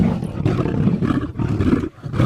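Lion roaring in the wild, a loud close series of deep rumbling roars with brief pauses between bursts.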